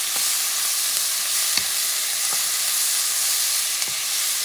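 Onions sizzling in a hot pan, a bright, steady frying hiss with a few soft taps and scrapes from a wooden spoon stirring them.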